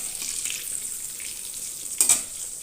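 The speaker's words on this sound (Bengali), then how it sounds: "তো আমিও তেল বেশি দিয়ে ভাজছি।" Eggplant slices frying in plenty of hot oil, a close continuous sizzle with a brief louder crackle burst near the end.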